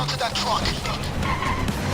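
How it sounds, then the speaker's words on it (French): A truck in the video game Payday 2 drives and skids with squealing tyres over a continuous engine roar, loud and close throughout. "Là, vous allez prendre le camion."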